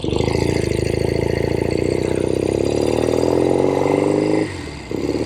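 A 1970 Royal Enfield Interceptor 750 Mk II motorcycle engine runs steadily and loud while being ridden, its pitch rising gradually as it pulls, then dropping off sharply near the end before picking back up.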